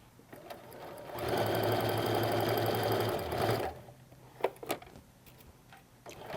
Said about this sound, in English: I'm going to go ahead and chain piece these on the sewing machine